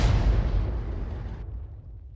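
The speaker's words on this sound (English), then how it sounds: "Well, there's an enemy Arty shell." An enemy artillery shell bursts in a tank battle game, a loud close boom with a deep rumbling tail that decays over about two seconds.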